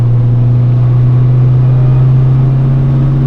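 A 1973 MGB Roadster sports car accelerating onto a highway, heard as a loud, steady, droning engine hum with little variation through the short stretch.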